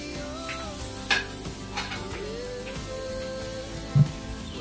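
Garlic browning in a small amount of oil, a soft steady sizzle with occasional stirring and a couple of sharp utensil clinks against the pan.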